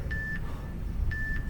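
Workout interval timer sounding two short, clear electronic beeps about a second apart, riding over low background noise at a strength-training session, with no talking.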